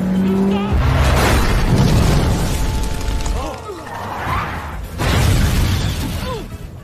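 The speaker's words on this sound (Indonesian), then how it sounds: "Kejar-kejaran mobil terjadi" A car chase in an action film, with roaring engines, skids, bangs and crashing impacts layered over a dramatic score. Voices cut in briefly amid the chaotic mix.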